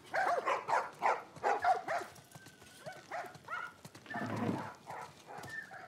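Dogs in The Last of Us video game give a series of sharp, rhythmic barks close by, followed by a few scattered yelps and a burst of noisy rustling.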